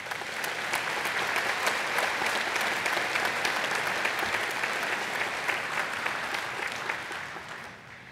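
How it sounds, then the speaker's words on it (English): A high school graduation crowd claps for itself in steady, dense applause with sharp individual claps standing out, holding evenly before tapering slightly at the end. "please give yourselves a round of applause for that"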